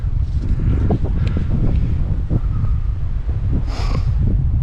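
Strong mountain wind buffets the microphone on a ridge hike, a loud continuous low roar with gusting swells and rustling, no voices heard.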